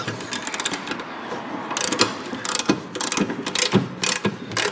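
Ratchet loosening a bolt on a Honda CR-V during rear wheel bearing work, rapid close clicking strokes in irregular bursts, loud and alone.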